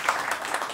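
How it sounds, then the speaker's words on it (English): Conference audience applauds the organizers in a brief, dense burst of clapping heard at close range, lasting under a second. "So can we give them a round of applause?"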